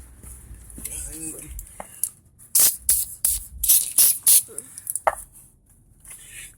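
Aerosol cleaner sprayed onto a brake caliper of a 2004 vehicle in several loud, close hissing bursts of varying length, with someone talking in between.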